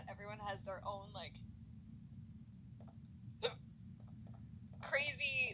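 Hiccups from a woman: a single sharp, short hiccup stands alone between stretches of her talking, with a faint steady hum underneath.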